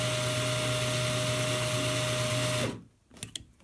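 A power drill whirs steadily and close while a wire tree is being twisted, then cuts off abruptly, leaving quiet with a few light clicks and taps.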